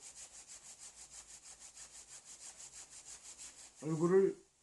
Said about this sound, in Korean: 그 다음에 두 손을 열이 나게 이렇게 비벼가지고